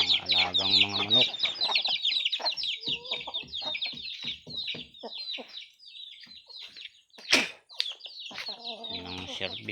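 Domestic chickens kept at a rural village home cluck busily and close by in quick, irregular bursts, with a louder squawk partway through and a few sharper calls.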